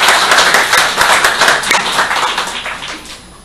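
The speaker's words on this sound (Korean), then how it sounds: "김종영 형제에게 감사 박수 드릴까요?" A church congregation claps in thanks for a member, a dense burst of applause that starts at full strength and fades gradually over a few seconds.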